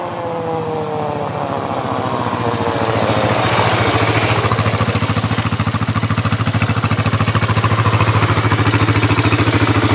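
A quad bike engine runs steadily and close by, with a low rhythmic throb that grows slightly louder and rougher after the first few seconds and then holds at a constant idle-like drone, with no talking.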